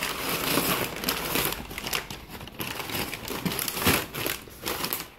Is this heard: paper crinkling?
yes